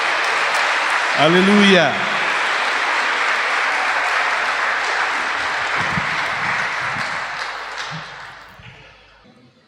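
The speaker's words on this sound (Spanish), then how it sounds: "Aplaudimos a aquel que lo va a hacer" A church congregation applauds, a broad steady wash of clapping that fills the room and gradually fades, with a voice calling out briefly near the start.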